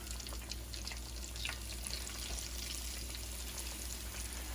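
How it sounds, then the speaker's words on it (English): Chicken legs frying in hot oil for sweet tea brined fried chicken give a soft, steady sizzle with scattered light crackles, fairly faint and continuous with no talk. "See that sizzle? That means the oil is hot enough."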